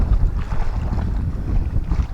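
Strong wind buffets a microphone outdoors beside a pond on a fishing trip, a loud continuous low rumble with gusty swells and no voices.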